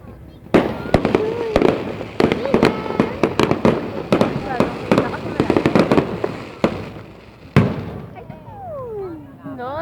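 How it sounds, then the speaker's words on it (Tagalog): Fireworks pop and crackle in rapid bursts, some sharp loud bangs nearby, with people talking underneath and a whistling rocket near the end. "Ay, meron palang fireworks."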